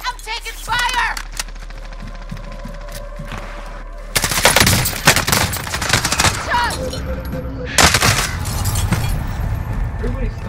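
Bursts of gunfire in Call of Duty: Modern Warfare, a few scattered shots at first, then dense loud fusillades of rapid automatic fire with a pause between them, while a voice speaks briefly.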